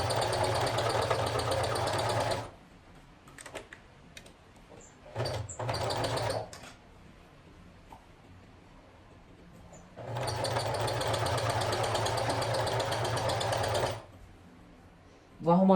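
A sewing machine runs a straight seam on stretchy fabric in two steady, loud bursts of whirring stitching. A quieter stretch of fabric handling and light knocks separates them.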